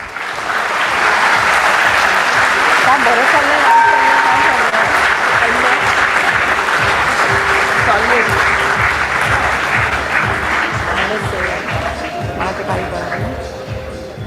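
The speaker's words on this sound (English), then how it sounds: "Can we hear a resounding of claps, please?" An audience gives dense, steady applause for about fourteen seconds, loud and close, with a few voices faintly underneath.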